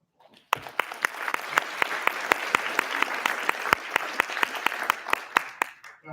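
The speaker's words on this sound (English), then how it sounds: "Would you please give yourselves a big round of applause." Crowd at a collaboration event breaks into applause after a short pause, many hands clapping fairly near with sharp individual claps standing out, sustained for several seconds then tapering.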